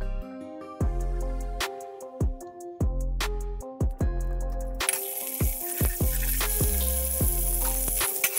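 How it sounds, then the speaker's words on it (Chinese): Thin slices of pork belly frying in a hot wok as their fat renders out, a bright hissing sizzle that starts midway and continues under prominent background music. "锅烧热，下五花肉，逼出透明的油来"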